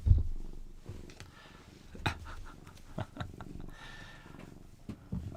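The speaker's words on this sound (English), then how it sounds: "You guys can, I'm sure, hear it purring." A soft, steady cat purr close by, with a few louder rustles and thumps scattered through it.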